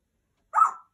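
A single short, raspy bark-like squawk, close and fairly loud, as a bird mimics a dog's bark.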